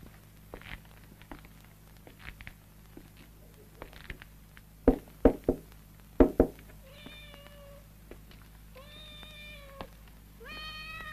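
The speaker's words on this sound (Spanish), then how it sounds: "Aquí dentro hay gatos." Cats meow from inside a Brazilian pine coffin with gilded metal moldings; several clear meows follow a quiet stretch with a few sharp knocks and soft steps.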